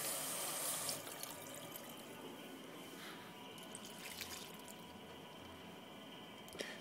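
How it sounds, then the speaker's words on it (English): Water poured from a scoop into a sourdough mixture, a soft steady trickle and splash up close, quiet and alone, tapering off after the first second. "And I'm going to add 1 scoop of water."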